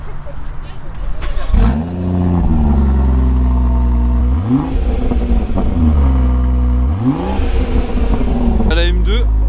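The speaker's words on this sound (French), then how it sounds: "on va faire un start-up de toutes les voitures une par une" A loud sports car engine fires up and revs hard three times, each rise and fall of the roar close by, with a clattering idle between.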